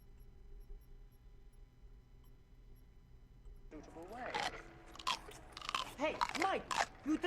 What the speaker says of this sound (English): Hey, Mike, you think you could crunch any louder?